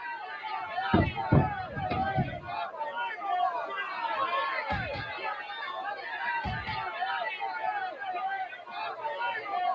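Capacity wrestling crowd outdoors at Soldier Field on the Lake Michigan waterfront, a steady dense hubbub of chatter and shouts with a few low thumps, no clear voice standing out.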